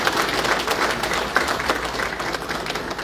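Loud, sustained applause from an audience at the official inauguration of the international Blantyre Cancer Centre. Many hands clap densely and continuously, close and full throughout.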